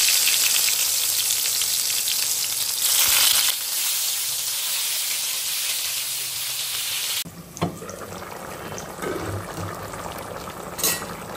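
Squid curry with potatoes and mixed vegetables simmering in a pan, a steady bubbling and faint sizzle throughout, briefly louder in the middle, with a few small clinks near the end.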